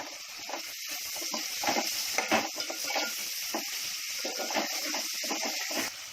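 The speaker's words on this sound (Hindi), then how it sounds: "इसमें डाल रही हूँ झींगे अपने फ्राई करने। प्याज के साथ ही वो फ्राई हो जाएंगे।" Prawns frying with onion in a pan for Konkani-style bhindi, a steady bright sizzle with occasional stirring scrapes, close and continuous throughout.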